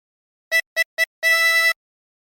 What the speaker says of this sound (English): For phrase 5, blow into 8 4 times.